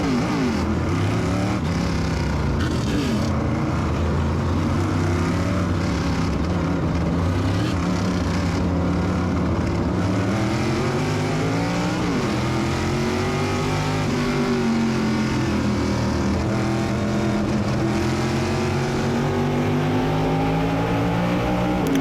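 Modified race cars roaring off at the start of a 125-lap race, a dense, continuous wall of engine noise with rising and falling revs as the pack accelerates, loud throughout with no talk.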